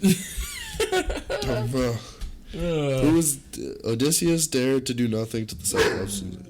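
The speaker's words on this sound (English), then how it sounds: "Sorry, that was the dog barking." A dog barks somewhere in the room during a casual podcast recording, its short barks partly buried under lively conversation and laughter.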